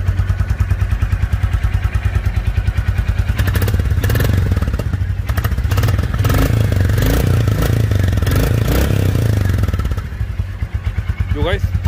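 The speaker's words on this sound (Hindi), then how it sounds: "ये देखिए गाइस अब हो गई है बाइक स्टार्ट हमारी" A 2023 Royal Enfield Bullet motorcycle idles just after starting, a steady rapid single-cylinder thump running throughout, close and loud, while someone talks over it.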